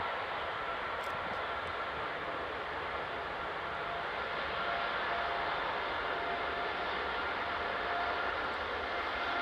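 An airliner in Europa Park livery runs at Manchester Airport, a distant, even jet whine and hiss that holds steady throughout, fairly quiet and without talk.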